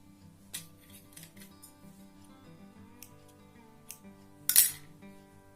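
Scissors snip thread for a saree tassel in a quiet room, with a few soft isolated clicks and one sharper, louder snip near the end, close and unaccompanied by speech.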